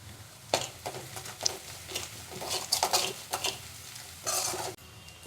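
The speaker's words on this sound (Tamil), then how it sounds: "கிள்ளி வச்சுட்டு காஞ்ச மிளகாவையும் சேர்த்து இப்போ எல்லாத்தையும் நல்லா வதக்கிக்கலாம்" Onions, curry leaves and dried chillies sauté in a pan for kaaramani poriyal, with bursts of sizzling and the scrape and clink of a stirring spoon against metal, close and without voices.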